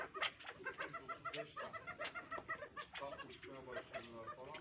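California quails give quick, rhythmic clucks and soft chirps in a close, busy run, the calls overlapping and repeating without pause.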